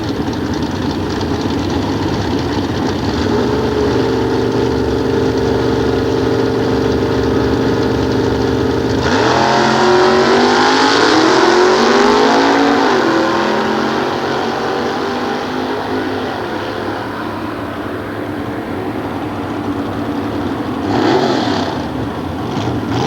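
A 1915 Model T hot rod with a 327 cubic inch Ford engine rumbles at nostalgia drag races at Sears Point in 1993. The engine idles steadily, then a loud revving roar surges midway and eases back under the ambient din.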